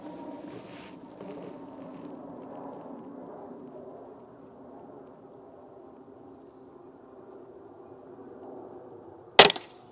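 A single sharp gunshot cracks out near the end, aimed at a middle target on a range, after a stretch of low steady hum.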